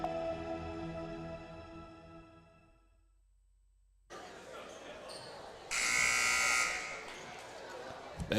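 A loud electronic buzzer sounds at a women's college basketball game, a steady blaring tone that cuts in over arena noise after a brief quiet gap and lasts about a second.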